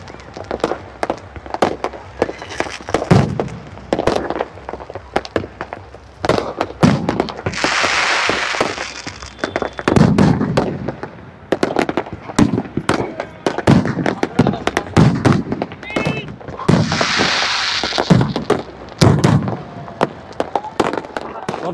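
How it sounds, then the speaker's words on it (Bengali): New Year fireworks bursting overhead in repeated sharp cracks and booms, some in rapid crackling clusters, near and loud, with a person talking between the blasts. "কত সুন্দর বাজি ফাটছে এখানে"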